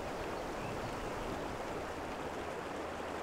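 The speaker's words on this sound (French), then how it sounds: "C'est un torrent impétueux qui est imprévisible." Steady broadband rush of the Drac, a fast, unpredictable mountain torrent, continuous and loud without a break, no voices.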